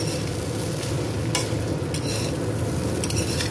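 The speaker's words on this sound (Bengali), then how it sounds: "ফাটানো ডিম আমি দিয়ে দিয়েছি কড়াইতে, আর দিয়ে তারপর এই ভাজা ভাতটাকেও দিয়ে দেবো" Beaten egg and fried rice are stirred in a wok over a steady, dense sizzle, with a few sharp scrapes and clinks of the utensil against the pan.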